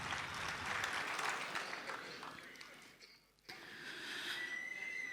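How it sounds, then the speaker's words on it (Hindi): A mushaira audience in Dubai breaks into a broad wash of applause that swells and then dies away briefly before a second burst of clapping rises, heard from within the hall with no clear talk over it. "एक बार ज़ोरदार तालियां बजा के मुझे इजाज़त दें कि मैं अपना कलाम पेश करूँ"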